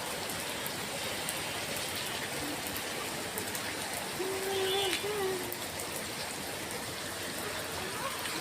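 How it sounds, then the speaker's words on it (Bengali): Steady rain pours down in a dense, even hiss, close by and unbroken, with a brief faint tonal sound partway through. "বৃষ্টি, আমি যে জায়গায় দাঁড়ায় আছি ওই জায়গায় কিন্তু পানি পড়ে না।"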